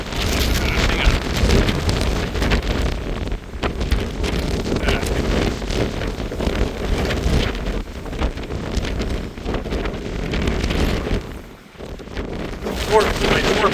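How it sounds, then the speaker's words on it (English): Strong gusting wind buffets the microphone in a constant roar on an open ranch with twisters nearby, with brief lulls and a voice speaking faintly underneath. "Pretty windy, huh?"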